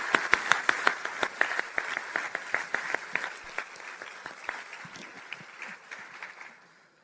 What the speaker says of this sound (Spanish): Un fuerte aplauso, mucho más fuerte,